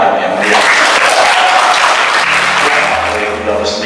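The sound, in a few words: audience applause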